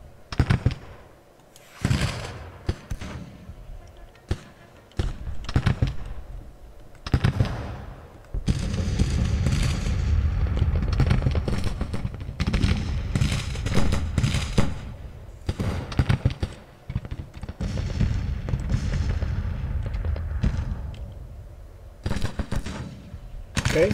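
Troops firing in the Civil War strategy game Grand Tactician: volleys of musketry crackle in ragged bursts with distant cannon booms mixed in, stretches of dense continuous gunfire alternating with scattered pops and brief lulls.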